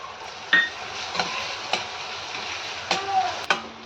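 Tomato, onion and ginger-garlic paste sautéing in a pan, with a steady soft sizzle broken by several sharp spoon-on-pan clinks as it is stirred.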